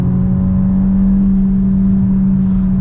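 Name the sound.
Peugeot 3008 180 hp engine revving while accelerating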